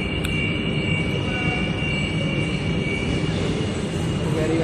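Steady low rumble with broadband hiss inside a moving metro train, continuous and loud throughout, with faint tonal whine above; no clear talk.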